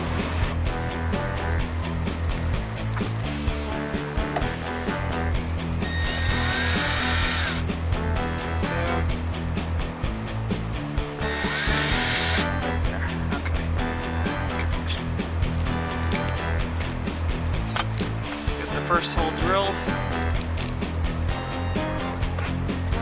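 A power drill whines steadily while boring holes in an off-road vehicle body for a snorkel installation, loud and continuous with two brief bursts of harsher grinding midway.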